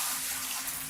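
Running water washes dirt through mining gear in Gold Mining Simulator, a steady close hiss of flowing water with no pauses.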